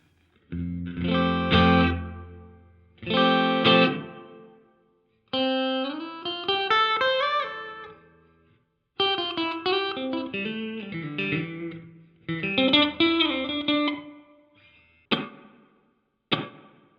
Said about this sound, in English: That's pretty good reverb.